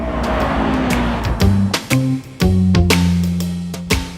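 A Honda S2000 sports car revs hard through several gear changes, its engine note climbing and dropping in steps, loud and close throughout.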